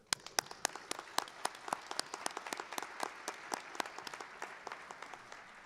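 A small audience at a high school awards ceremony claps steadily, a light patter of individual hand claps at moderate volume without cheering.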